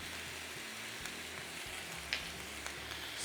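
Cubes of pork shoulder sizzle steadily as they brown in a pot, a close, even hiss with a few faint pops and clicks and no talking.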